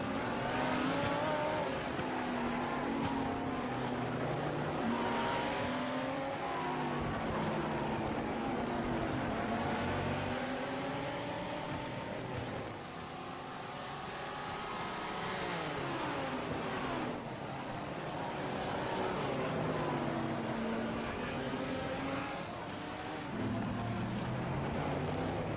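GT1 and GT3 race cars roar down the pit straight at Long Beach, overlapping engine notes rising and falling continuously and loudly as cars pass in close succession, with a lapped car among them.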